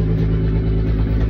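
A farm tractor engine runs nearby in a rural setting, giving a steady, loud, low rumbling chug with a slight clatter and no talk over it.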